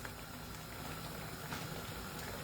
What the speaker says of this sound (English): You boil the protein, fish from Sierra Leone, hard-boiled chicken, salt, a little bit of salt, and stockfish